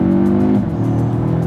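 An Audi S3 engine pulls hard under acceleration, a loud close-up droning growl that holds steady and then drops in pitch at a gear change before climbing again.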